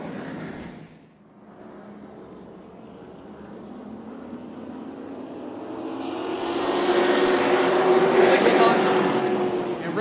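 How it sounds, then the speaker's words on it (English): A pack of race cars launches at a race start at Tucson Speedway, engines swelling from a low rumble into a loud, rising roar that peaks and holds, with faint voices underneath. "Really good launch on the outside by Andy Soul that time."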